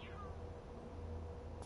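Cats meow in the horror game Frightence, with a short descending meow at the start and another brief high cry near the end, fairly faint over a low hum and background drone.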